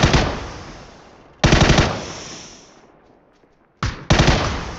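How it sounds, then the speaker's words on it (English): Robot enemy firing a gun in a video game: loud bursts of rapid machine-gun fire, one long volley that tails off, then two shorter bursts close together, with no talking over it. "Oh, the robot's shooting behind you, Steven."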